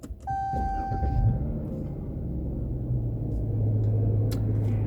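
A Dodge Challenger engine starts up with a short crank, then settles into a loud, steady low rumbling idle that runs on continuously, heard up close with no talking.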